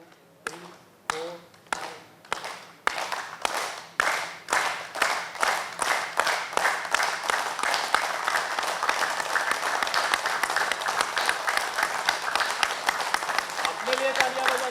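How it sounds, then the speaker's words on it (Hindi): Seminar audience at a healing summit clapping for themselves, starting as a few slow, separate claps that quicken and merge into steady, dense applause from a roomful of people, with voices faintly underneath. "हम तालियां अपने लिए बजाएंगे, सिर्फ अपने लिए, किसी और के लिए नहीं, सिर्फ अपने लिए।"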